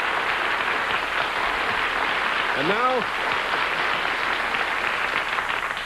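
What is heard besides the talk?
studio audience applause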